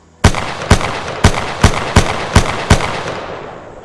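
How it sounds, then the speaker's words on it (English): Seven loud gunshots from a homemade gun fired downrange, evenly spaced about half a second apart, each a sharp crack with a short decaying tail, no talking. "then just shooting another 10 rounds"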